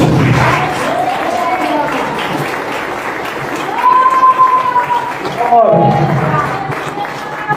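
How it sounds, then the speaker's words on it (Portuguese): A church congregation applauds at a worship service, a steady broadband wash of clapping that runs throughout, with a voice or sustained tones rising over it midway and a brief dip near the end. "Aplauda o Senhor Jesus"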